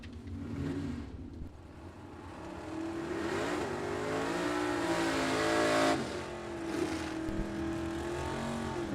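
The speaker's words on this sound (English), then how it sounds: "Ed Evans, the 93 Mustang, trying to chase down Brian Hampton in the 88 Camaro." A 1993 Mustang and a 1988 Camaro race down a drag strip, engines rising in pitch through revving pulls with shifts, sustained and moderately distant, no voices over them.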